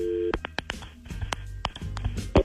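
A telephone call signal for a KDWB radio prank call, repeated electronic tones and beeps ringing out in a short sequence, fairly loud and close with no talking.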